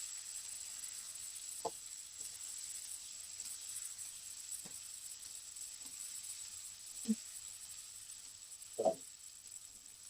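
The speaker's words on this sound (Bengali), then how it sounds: "তার মধ্যে দিয়ে দিলে একটা পেঁয়াজ, তো এটাকে ভালো করে কষাবো।" Onion frying in hot oil for a stingray fish dish, heard as a soft, steady, even sizzle. A few faint knocks of a utensil sound now and then, with no talking.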